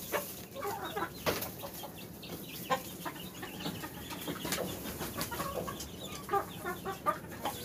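Backyard chickens clucking steadily as millet is scattered for them, a busy close flock with overlapping calls and no talk.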